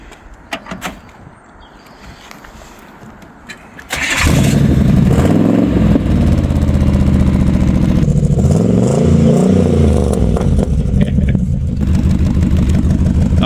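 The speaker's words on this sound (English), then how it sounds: "shall we start it up so we can see what it sounds like?" A 1949 Chevy Styleline custom hot rod cranks briefly after some quiet clicks and handling noises, then fires into a loud, lumpy idle with blips of revving that continue close by.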